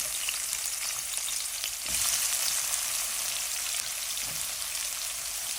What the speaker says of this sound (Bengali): সেম তেল দিয়ে আমি রান্না করব আচ্ছা, আমি এখন পেঁয়াজ দিয়ে দিচ্ছি